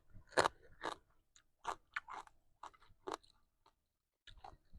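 Someone chews fried field crab served with spicy Luang Prabang papaya salad: a string of brittle, irregular crunches and crackles, close to the ear, with short quiet gaps and a final pair of bites after a pause.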